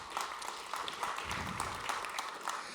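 An audience claps at the 2021 Côte d'Or craftsmanship awards ceremony, a steady patter of applause that holds moderately loud throughout with a faint voice briefly underneath.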